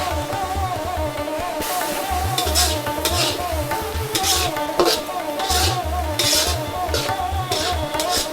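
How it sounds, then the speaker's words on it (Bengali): Ground cumin paste and spices stir-fry in oil for chicken bhuna, a continuous low sizzle under rhythmic scraping and knocking of a spoon against the pan, loud and close. "কষাতে থাকবো যতক্ষণ তেল মশলা আলাদা না হবে"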